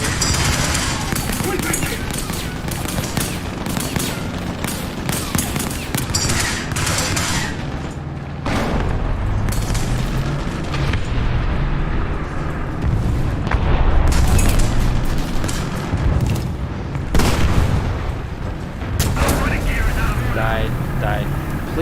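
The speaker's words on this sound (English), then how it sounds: "Please let my artillery hit him." Heavy booms and artillery blasts from tank combat in War Thunder roll on loudly and almost without break, with a voice talking over the rumbling explosions.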